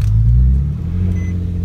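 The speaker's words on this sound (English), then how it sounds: "Give it a little bit of gas." A car engine revving as the gas pedal is pressed in a parked car, a loud close rumbling rise at the start that settles into a steady low idle.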